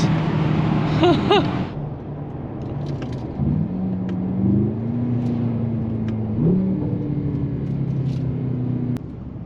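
A Mercedes-AMG GT63S E accelerates in first gear inside a tunnel, its engine rising in pitch and then holding a steady droning tone, with the rumble echoing loudly around the car.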